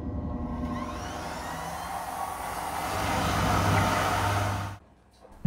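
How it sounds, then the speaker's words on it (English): Hand dryer in the lavatory of a KTX bullet train, a steady close whirring blast of air lasting almost five seconds, swelling slightly before stopping abruptly over faint train rumble. "It has a hand dryer too."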